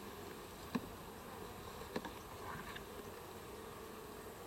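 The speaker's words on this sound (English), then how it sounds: "Chock full of bees." Honey bees hum and buzz steadily inside an opened nucleus hive, a dense low drone with a few sharper taps and knocks as frames are handled nearby.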